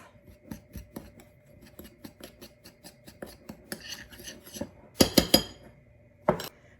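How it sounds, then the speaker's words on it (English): Dry ingredients for apple gingerbread mixed in a bowl: a string of light clinking taps and scrapes at a steady pace, growing into a few louder clattering knocks near the end, close and with no talking. "Just gonna mix those together and set them aside while we prepare the wet"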